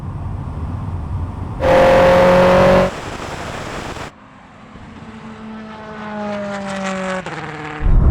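A Le Mans-winning Bentley Speed 8 and a Bentley Continental GT Speed drag race to the quarter mile, engines roaring loudly and climbing in pitch through several abrupt gear changes, with sudden bursts and cuts in the sound.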